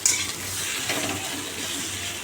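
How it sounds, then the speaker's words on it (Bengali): Teasel gourd (kakrol) frying in a home kitchen pan, a steady soft sizzle running throughout without pause, fairly close and moderate in level. "এবার ভাজবো কাঁকরোল"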